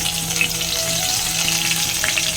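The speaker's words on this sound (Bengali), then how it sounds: "এবারে চিংড়ি মাছগুলো একটু ভেজে দেবো।" Prawns fry in hot white oil in a wok with a continuous close sizzle and crackle, plus a few faint clinks, and no voices.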